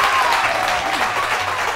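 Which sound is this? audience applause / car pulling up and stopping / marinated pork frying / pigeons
audience applause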